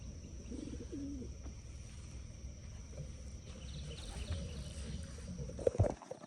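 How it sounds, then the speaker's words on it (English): Soft, low coos from six pigeons held in a basket, repeating close by in a quiet space, with faint rustling and a brief louder scuffle near the end. "we have 6 pigeons in the basket"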